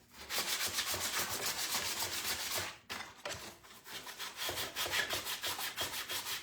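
An old wooden chair being rubbed down by hand before painting, a loud continuous rhythmic scratchy rasp of strokes that pauses briefly then resumes, close and alone.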